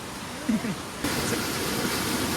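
Loud, steady broadband rush of floodwater pouring through a swollen stream during torrential monsoon rain in the Konkan countryside, close and continuous, with a brief voice-like sound near the start.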